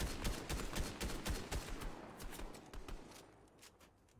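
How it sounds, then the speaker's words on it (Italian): Rapid gunfire in a video game, sharp repeated bursts of shots at close-to-medium range that thin out and fade toward the end, with no talking over them. "ci sono spari tipo dritto davanti a noi"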